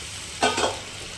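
Warm water goes into a frying Kashmiri potato curry (aloo dum). It makes a short, sharp burst of hissing sizzle lasting about a quarter second, then settles back to a low background.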